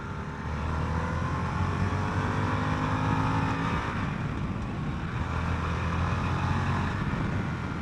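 A 2021 Harley-Davidson Sportster S engine pulls hard under throttle while riding, a loud steady rumbling roar with rising revs, mixed with heavy wind rush throughout.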